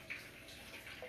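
Milk is poured into a bowl for a lemon icebox cake, giving a brief, soft, steady liquid splash and trickle heard up close.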